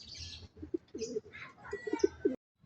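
Blue Bar White Flight, a male racing pigeon, lands and coos in short soft bursts at close range, with faint chirps and brief wing flaps around it and quiet background noise.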